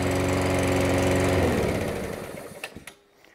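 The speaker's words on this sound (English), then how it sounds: "Love the sound of a new engine." A small petrol engine on a new Hyundai self-propelled lawnmower runs with a buzzing drone, then winds down and sputters to a stop with a few last knocks.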